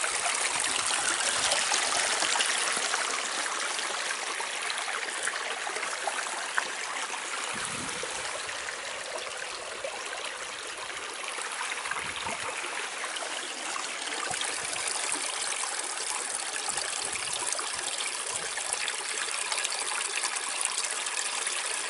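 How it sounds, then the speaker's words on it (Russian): Natural spring water flowing and trickling outdoors, a steady close rushing babble with no pauses. "Здесь вот такой вот родник."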